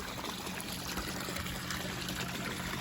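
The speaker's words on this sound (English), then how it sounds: "that's the water flow I get out of a little pump, and it's a 1/2 horsepower, 180 watts" Water gushes steadily from a half-horsepower, 180-watt pond pump, a continuous close splashing rush with no pauses.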